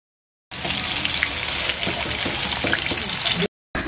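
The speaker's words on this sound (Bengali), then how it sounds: "একটা ফ্রাই প্যানে পরিমাণ মতো তেল দিয়ে ওখানে মাছটা দেওয়া হয়েছে" Spiced whole tilapia frying in oil in a frying pan, a dense crackling sizzle that starts abruptly and holds steady for about three seconds before cutting off.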